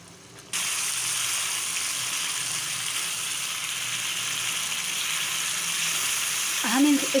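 Green chilli sauce in a pan on a turned-up stove sizzles and fries in a loud, steady hiss that starts abruptly and continues unbroken, with a brief voice near the end.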